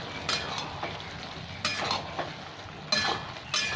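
Mushroom curry sizzling and frying in a pan with tomato paste just stirred in, with intermittent stirring scrapes and light utensil clinks at close range, no talking.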